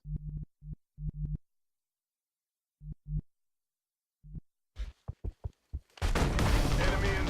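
Explosions go off in XCOM: Enemy Unknown: scattered dull thumps and short bursts spread over several seconds, building to a sustained loud rumbling blast at the end.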